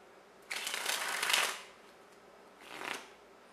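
Playing cards from a deck being handled and shuffled: one long dense riffling burst lasting about a second, a pause, then a shorter second riffle, close and fairly loud with no talk.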